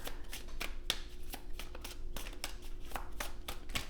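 Tarot cards are shuffled close up for a reading, giving a steady run of quick papery slaps and riffles at a brisk, even rhythm.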